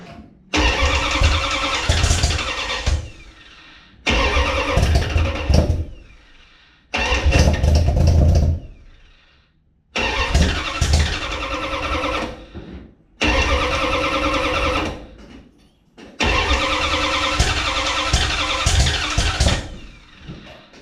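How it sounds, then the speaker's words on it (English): A cold 360 Dodge Ramcharger engine on its first start, repeatedly cranking and sputtering in bursts, coughing through the carburetor, cutting out between attempts, loud and close with rough uneven firing. "I'm still getting a little bit of coughing up through the carburetor"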